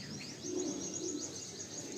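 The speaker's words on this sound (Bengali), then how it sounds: "ফুলসিরা লাইনের পায়রা, খুবই হাই ফ্লায়ার পায়রা" Soft cooing from Fulsira-line high-flying Andhra pigeons held in a loft, a low continuous murmur with light chirps flickering over it, close and fairly quiet.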